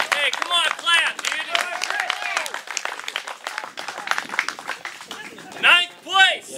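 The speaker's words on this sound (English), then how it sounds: "Hey, come on, clap, dude." An audience claps at the awards ceremony of a bass fishing tournament, with scattered bursts of applause and voiced whoops and shouts rising over a busy crowd, swelling again near the end.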